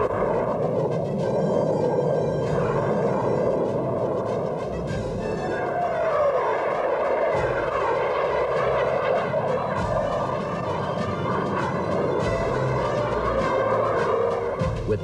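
Test aircraft roaring through the sky over Edwards, a continuous deep, rumbling jet roar that holds steady and loud for the whole stretch, with no voices.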